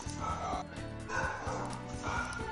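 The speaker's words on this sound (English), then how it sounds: "Your dogs are going nuts" Dogs bark and yip repeatedly in the background during an online game session, several quick barks in uneven bursts with low hum underneath.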